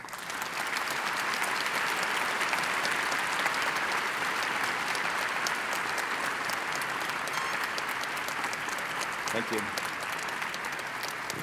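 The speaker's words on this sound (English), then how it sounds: "Applause from thousands of people feels pretty good, actually." Sustained applause from thousands of attendees at a large developer conference hall, a dense even roar of clapping throughout, with a brief spoken thank-you from the stage partway through.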